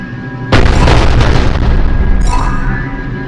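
A cruiser cannon bombardment in Mass Effect 3 strikes with a sudden loud booming explosion that rolls on as a heavy sustained roar, followed by a fainter secondary blast.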